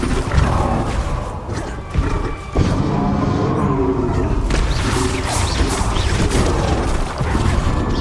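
A Bombarda spell blasts in Hogwarts Legacy, part of loud, dense game action with booming crashes and heavy thuds over a constant rumbling bed, plus a sharp break and renewed impacts.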